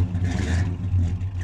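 A 1969 Pontiac Grand Prix family car's engine hums and revs nearby, a low steady drone with a brief swell, heard alone.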